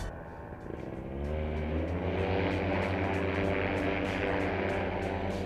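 Powered hang glider ultralight engine in flight, rising to full power as a loud, steady propeller drone with a strong low hum and buzzing harmonics, alone with no voices.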